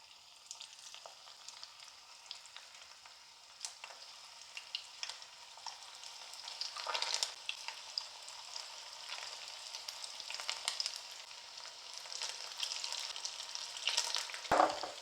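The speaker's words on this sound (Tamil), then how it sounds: "இப்போ நம்ம பக்கோடா மாவை சின்ன சின்ன பீஸாக எண்ணெயில் சேர்த்துடலாம்." Small pieces of pakoda batter fry in hot oil over medium heat, giving a soft continuous sizzle with scattered crackles and pops that builds slightly, fairly faint throughout.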